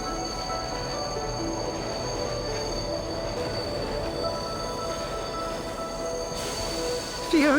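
A train pulls into a station, its steady rolling rumble carrying high, sustained wheel squeals throughout, with a louder burst near the end.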